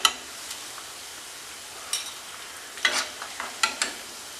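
Onion pakora fries in oil with a low, steady sizzle, broken by several sharp clinks and scrapes of a utensil lifting pieces out, without speech.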